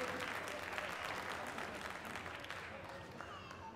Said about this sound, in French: Fin de la deuxième reprise, on peut les applaudir.